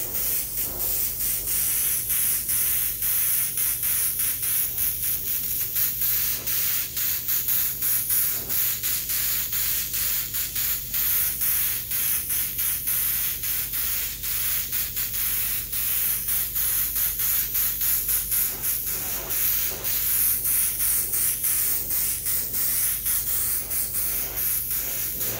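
An airbrush spraying blue paint over a white flames design, a continuous close hiss that runs steadily the whole time with no talk.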